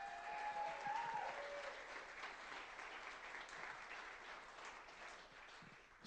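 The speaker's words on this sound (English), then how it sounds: "A round of applause for the volunteers." An audience at a WordCamp opening session applauds the volunteers with a soft, steady wash of distant clapping that slowly fades, a faint voice briefly audible early on.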